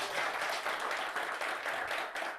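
A TV show studio audience gives a short burst of steady, dense applause, close and even throughout, on a Turkish entertainment program.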